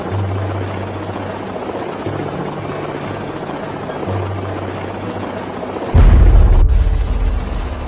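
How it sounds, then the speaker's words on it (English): A helicopter's steady rotor drone and engine whine, close and loud, swelling into a heavier roar near the end as it comes down to land. "This is how the helicopter lands."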